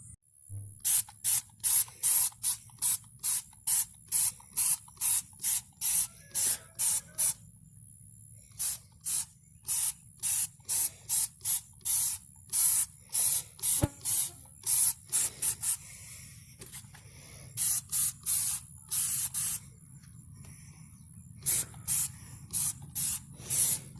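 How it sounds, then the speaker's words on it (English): Dawn Powerwash sprays onto the underside of a 2019 Polaris Sportsman 450 ATV in quick, repeated trigger bursts, close and sharp, with short pauses between runs of spritzes over a faint background hum. "So now I'm going to go ahead and spray this side down."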